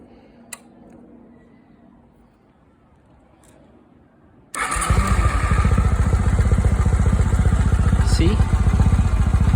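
A Kawasaki W650 motorcycle engine, set up for carburetor synchronization, is quiet for about four seconds, then starts and settles into a loud, steady idle that runs to the end.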